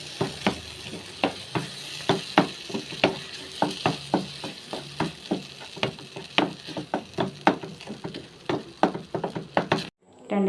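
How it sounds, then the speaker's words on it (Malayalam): Mixture for mango rasam sautéed in a pan with a spoon scraping and knocking in a steady, brisk rhythm over a soft sizzle, close and clear for about ten seconds. "പച്ചമണം മാറുന്നത് വരെ വഴറ്റി കൊടുക്കുക."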